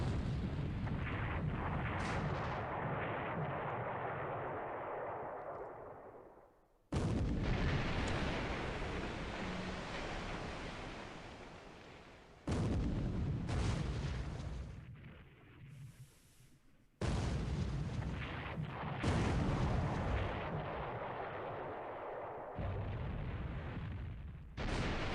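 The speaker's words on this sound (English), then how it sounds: "Boy, how many shells can this thing take?" Naval shells slam into a ship in the video game War in the Pacific: heavy booming impacts arrive in about five separate waves, each hitting hard and then decaying into a long rumbling tail.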